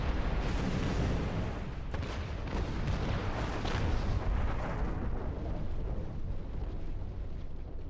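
In the Star Trek Online space game, a torpedo strikes a small craft's rear shields as a heavy, continuous rumbling blast with crackling bursts. It is loud and dense, with no voices.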